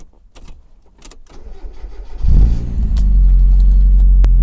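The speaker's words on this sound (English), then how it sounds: "Let's see if the car will start." A Mazda Miata cranks briefly and catches, its engine then settling into a steady, loud idle close by, following a few quiet clicks and rustles.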